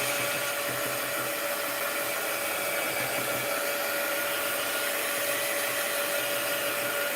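Dryer blowing to dry paint on a craft card, a steady, even whooshing hiss that runs unbroken throughout at a constant level.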